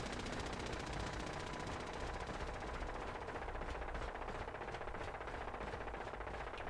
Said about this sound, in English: Don't you hate that turret noise?